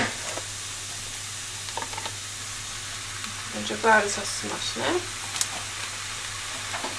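Steady sizzle of meat frying in a pan, a constant hiss under brief stirring sounds and a voice speaking.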